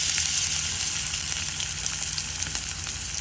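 Onion sizzles and fries in hot mustard oil in a pan, a steady, loud, crackling hiss that continues without pause, with no voices.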